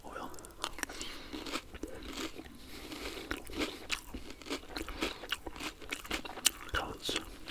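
Cheerios cereal is crunched and chewed close to the microphone in a quiet setting, with soft irregular bites and crackles and faint whispering mixed in.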